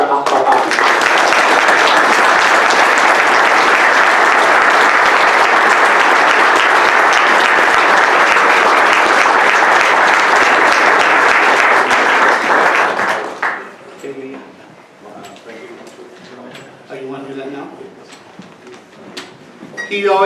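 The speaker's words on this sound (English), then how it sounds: "So please give a warm Fort Wayne welcome to Ambassador Dr. Akbar Ahmed." Audience applause welcoming Ambassador Dr. Akbar Ahmed at a Fort Wayne event, a dense, steady clapping that fills the room for about thirteen seconds before cutting off to quieter room noise and shuffling.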